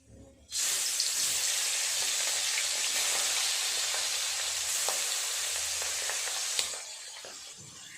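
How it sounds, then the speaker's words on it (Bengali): Tangra fish frying in hot oil in a wok, a loud steady sizzle starting abruptly and holding without pause, with faint crackles and a brief spatter near the end. "তেল দিয়ে মাছগুলো আগে ভেজে নেব"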